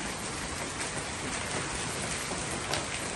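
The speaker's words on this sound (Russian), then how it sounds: "Град у нас." Heavy hail mixed with strong rain pelting down outdoors in Israel, a dense, steady broadband hiss and patter filling the whole clip without pause, loud and close.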